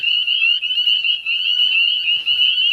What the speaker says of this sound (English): Leopard frogs. They're all making their calls tonight